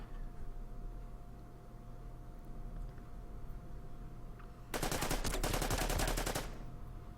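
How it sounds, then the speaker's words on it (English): Bunkers open fire in the Order of Battle Pacific strategy game, a rapid burst of machine-gun fire lasting under two seconds over a quiet steady background hum, with no talk. "Yeah, the bunkers are gonna fire."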